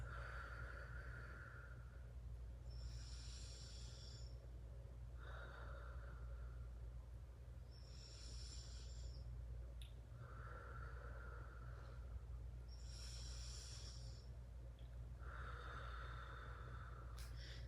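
Slow, deep yoga breathing during a hip-opening stretch, with long drawn inhales and exhales repeating in a steady rhythm, soft and close over a constant low background hum.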